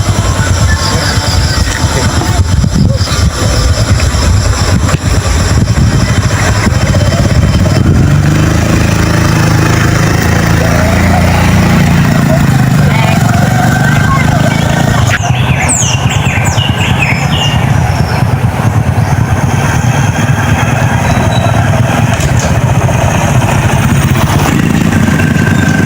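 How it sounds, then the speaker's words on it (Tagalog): A loud motorcycle engine runs continuously up close, a steady rumbling drone throughout with a slight shift in tone partway. "yung motor ko na lang ang gagamitin natin"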